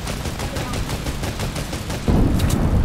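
Rapid bursts of automatic gunfire in Fortnite, a steady rhythmic stream of shots close and loud, growing heavier and denser toward the end.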